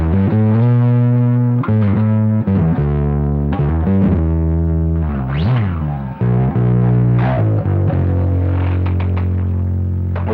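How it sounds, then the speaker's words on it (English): Distorted Rickenbacker 4000W bass guitar through an MXR M80 distortion pedal, riffs played loud and continuous, thick gritty sustained notes with harmonic buzz, shifting pitch every second or so. "now let's turn on the distortion for this."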